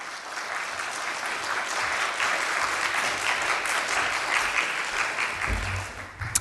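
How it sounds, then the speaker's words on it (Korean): A church congregation claps warmly in sustained applause welcoming a pastor, holding steady for several seconds before tapering off. "우리 김정호 목사님 나오셔서 귀한 말씀 해주실 때 우리 뜨거운 박수로 우리 목사님 맞이해 주시기 바랍니다."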